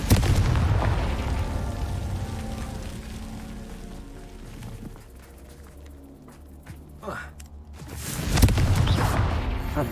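A Confringo fire-blast spell explodes in Hogwarts Legacy, a loud broadband burst at the start that thins into rumbling decay, then a second heavy blast near the end, with a voice talking over parts of it.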